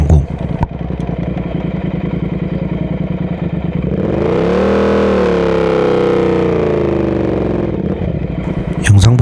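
Motorcycle riding along a forest dirt road in autumn, its engine loud and close with a rough rhythmic chug, then a smoother rising drone as it speeds up, with clatter at the start and end.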